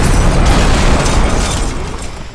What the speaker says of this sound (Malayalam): വണ്ടി പൊട്ടുന്നു